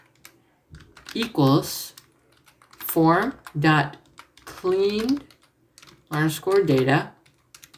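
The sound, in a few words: typing on a computer keyboard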